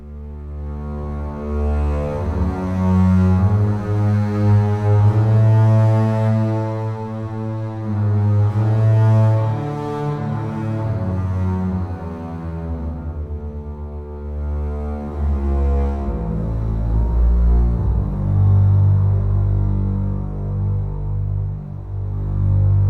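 A string section plays up bows: sustained long, swelling notes at a steady loudness, with low tones droning underneath and bow changes audible within held chords.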